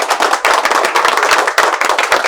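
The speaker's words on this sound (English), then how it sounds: "Everybody give a huge round of applause for yourself" Loud, close audience applause, many hands clapping in a dense, steady crackle with slight surges, filling the whole stretch with no talk over it.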